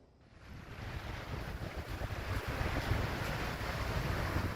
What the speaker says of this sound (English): It's early morning where sound of swirling waves and the smell of the sea air, together with many seabirds